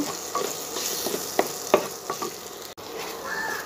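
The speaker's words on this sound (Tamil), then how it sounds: "உடனே கிளறலைன்னா அடி பிடிச்சிக்கோங்க. டக்குன்னு கிளறிடலாங்க." Ground coconut and roasted gram masala paste with water stirred in a cooking pan for salna, giving close, irregular spoon scrapes and clicks over a soft steady sizzle, with no talking.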